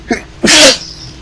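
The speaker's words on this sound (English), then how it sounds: "someone had to sneeze" A single loud, close sneeze in the video game Stick Fight, a short sharp intake followed by a forceful burst, standing alone with nothing else around it.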